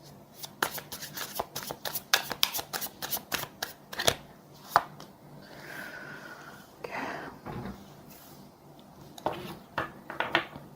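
Tarot cards handled and shuffled, a quick run of sharp riffling snaps followed by softer sliding and rustling, then a few more crisp card flicks, close and clear.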